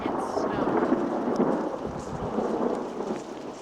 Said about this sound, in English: Lightning, thunder, and snow.